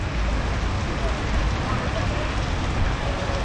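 Steady, dense rainfall pours down in a constant wash of noise, loud and close, with no pauses throughout.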